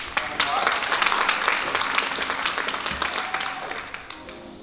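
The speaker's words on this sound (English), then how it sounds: "So please give a clap for Bowie Center for Performing Arts." An audience at a readers' choice awards presentation applauds with dense, continuous clapping at moderate distance, voices faintly present beneath, the applause easing slightly toward the end.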